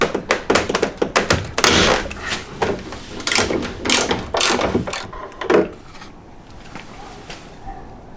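Torx screws being undone and a rear bumper worked loose on a BMW E30, with a run of close, sharp taps, knocks and thunks of plastic and metal, mostly dense early and thinning out toward the end.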